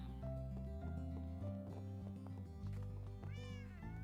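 Several cats in Minecraft meow repeatedly over looping background game music, their calls overlapping in short rising and falling bursts near the end.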